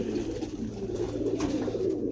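Domestic pigeons coo in a steady low murmur as they are let down for bathing, several birds close by with a continuous soft rumble and no talk.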